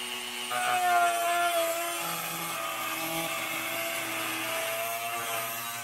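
A small high-speed rotary tool whines steadily while cutting out a plastic Traxxas TRX-4 Ford Bronco scale RC body, a continuous close buzz with slight pitch shifts as it bites into the shell.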